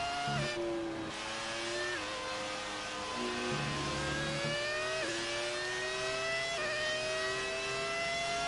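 A 2004 Ferrari Formula 1 car in F1 2018 revs steadily, its high engine whine rising in pitch and dropping at each gear change, heard alone and fairly close.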